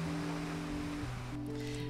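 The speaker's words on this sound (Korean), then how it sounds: "가시면서 바람 소리 그리고 파도 소리, 몽돌과 몽돌이 부딪히는 소리" Sea waves wash over smooth round pebbles along a coastal walking path, making a steady, continuous rush of surf with faint steady tones in the background.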